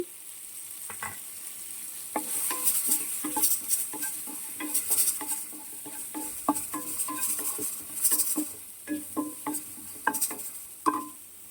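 Coriander seeds, mustard seeds, cumin and turmeric frying in a pan, a steady close sizzle with frequent small clicks and scrapes of a spoon stirring, no talking.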